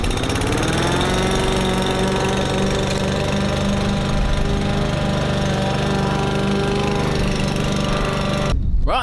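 A rotary lawn mower set to a 17mm cut runs loud and close on cool-weather turf, its engine holding a steady, dense drone with a knocking undertone for most of the stretch before cutting off abruptly near the end.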